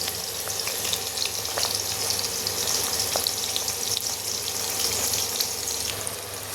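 Chickpea-batter pakoras deep frying in hot refined oil in a kadai, a steady close hiss and crackle with scattered bubbling pops, continuous and fairly even throughout.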